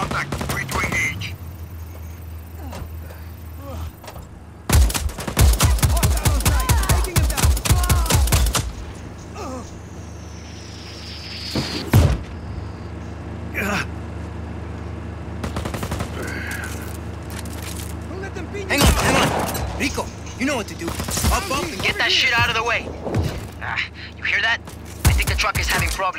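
Gunfire in Just Cause 4, with rapid automatic bursts and scattered single shots cracking loudly over a steady engine-like drone, broken up by clattering impacts and a voice speaking in between.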